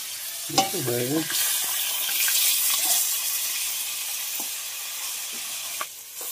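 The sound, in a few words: fish frying in oil until reddish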